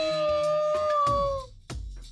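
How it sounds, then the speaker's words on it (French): A wolf howling in a long, cold cry, a sustained tonal wail that slowly falls in pitch and fades out, followed by dull thumping noises, with no talk. "Le loup hurla, un cri long et froid"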